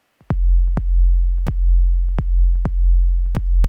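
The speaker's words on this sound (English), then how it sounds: "This is a super simple sub kick." A deep, booming trap sub kick repeats steadily, each hit a sharp click followed by a long sustained low tone, about seven hits with no talking.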